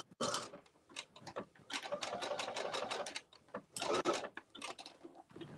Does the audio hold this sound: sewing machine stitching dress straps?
yes